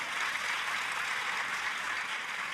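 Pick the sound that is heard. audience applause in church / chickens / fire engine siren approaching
audience applause in church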